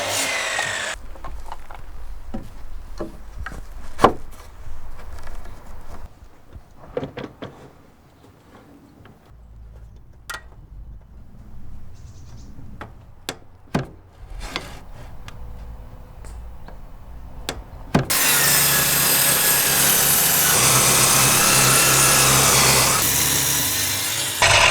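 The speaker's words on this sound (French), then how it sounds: "scie un bois équarri dans la longueur et à l'oblique" A saw cuts squared timber lengthwise at an angle for a treehouse roof; scattered knocks and handling give way to a loud, sustained grinding cut that runs to the end.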